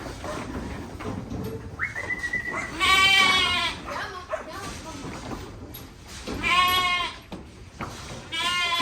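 Sheep on a farm bleat in loud, close, wavering cries, two strong bursts separated by quieter rustling, with a person talking in the background and a brief dog-like call.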